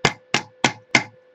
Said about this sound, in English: when hammering contours